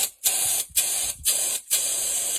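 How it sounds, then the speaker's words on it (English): A can of compressed air sprays in four loud bursts, each a harsh close hiss lasting about half a second, separated by short gaps. "You shake the canned air up like this and then you spray it backwards"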